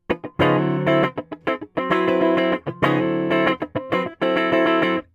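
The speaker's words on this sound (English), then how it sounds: "So this is the guitar without the compression pedal." Electric guitar without a compression pedal plays choppy funk-style chords in short bursts with quick muted stabs between, loud and close with no voices.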